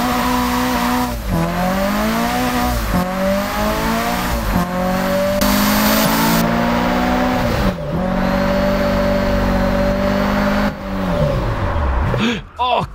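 Toyota AE86 engine in a racing video game revving hard through repeated climbing gear pulls on a night time attack run, loud and continuous, with brief tire noise near the end.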